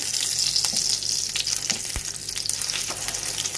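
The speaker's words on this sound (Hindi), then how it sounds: "तो चलिए मैं आपको फ्राई करके भी दिखा जी" Chicken shami kebabs frying in a pan, a continuous bright sizzle with a few soft knocks and clinks, close and steady with no talking.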